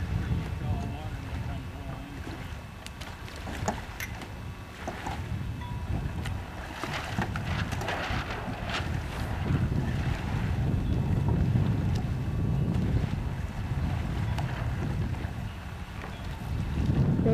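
Laser sailboat moving across a lake, with steady wind buffeting the microphone and water sloshing against the hull, loud and continuous for the whole stretch; a voice is faintly audible underneath.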